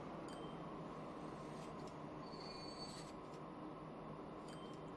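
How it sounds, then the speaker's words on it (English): Train running on rails in the game Transport Fever, a steady, faint rumbling hum with a faint high whine, continuous and unchanging throughout. "I need to get this train where it goes"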